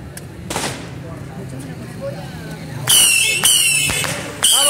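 Sharp New Year firework rockets burst and crack out, several in quick succession with crackling tails, while people chatter and shout excitedly in the background.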